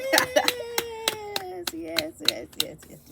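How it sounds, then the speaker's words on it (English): Hands clapping in a loose rhythm, sharp separate claps spaced under a sustained sung or spoken voice, fairly close. "Clap your hands."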